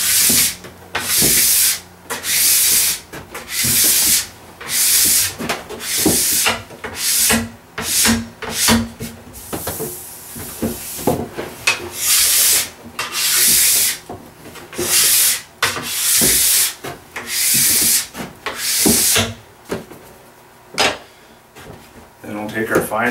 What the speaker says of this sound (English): we'll go down the ski, brush that wax out of the structure